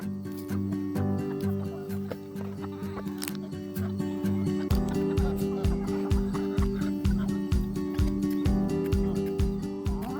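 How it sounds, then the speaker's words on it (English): Bantam chickens clucking in a farm coop on a rainy day, with repeated short, close calls over a steady low hum and a regular rhythmic thumping throughout. "Well, Bantams, that was rude of Shadow to make you wait so long"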